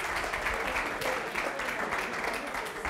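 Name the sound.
applause for a correct answer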